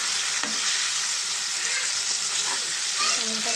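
Tomatoes and onions sizzle steadily in a pan as the base for a mutton curry, with a constant frying hiss and light stirring scrapes throughout.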